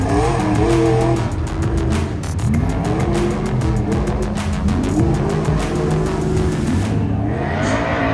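A fairly built stock-class Ford Bronco off-road race car with full independent front suspension and portal axles races at King of the Hammers. Its engine revs loud and close, climbing and falling in pitch over continuous roaring.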